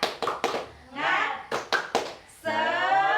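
Classroom children perform the 'tepuk semangat' clap chant, with bursts of claps interleaved with their shouted chanting voices, ending in a sustained group shout.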